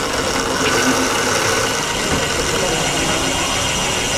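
An engine runs at idle, up close, as a continuous rough mechanical rumble with faint ringing tones on top and no clear change in speed.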